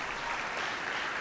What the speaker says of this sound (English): So let's give Brian a round of applause as well.